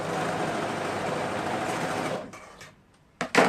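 A sewing machine stitches elastic together for children's clothes refashioned from sweaters, running steadily for about two seconds before stopping, followed by a couple of short bursts.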